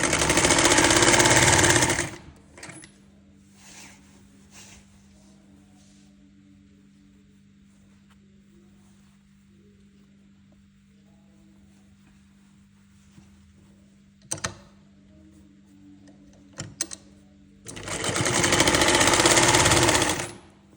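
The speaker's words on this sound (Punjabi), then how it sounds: "ਫਿਰ ਆਪਾਂ ਉੱਪਰ ਇਦਾਂ ਸਲਾਈ ਲਗਾਉਣੀ ਹੈ" A sewing machine stitches a shoulder seam on a garment: a loud rapid whirring burst opens, then a long stretch of faint motor hum with scattered handling clicks, and a second loud stitching run near the end.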